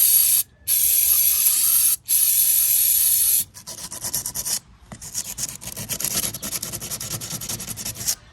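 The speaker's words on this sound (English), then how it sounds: "we're gonna clean the EGR valve with some of this mass airflow cleaner sensor" Mass airflow sensor cleaner sprays from an aerosol can onto an EGR valve in loud bursts, first two long hisses broken by brief pauses, then a softer, rougher spray with scrubbing texture.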